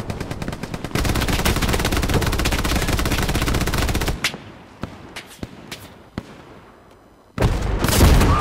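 Rapid, loud bursts of flak anti-aircraft gunfire in the World War II shooter Hell Let Loose, a dense rattling barrage for several seconds, then scattered sharp cracks, then another heavy burst.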